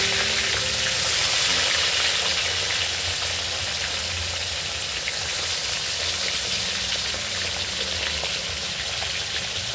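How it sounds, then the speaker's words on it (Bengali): Hilsa fish frying in boiling oil, a steady close hiss and crackle of sizzling that runs unbroken throughout with no voices. "ফুটন্ত তেলে ইলিশ"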